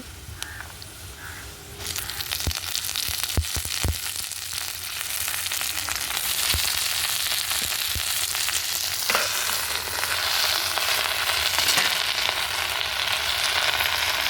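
Amaranth leaves and onions fry together in a pan on a wood-fired stove, giving a steady loud sizzle throughout, with a few sharp knocks and clatters near the start.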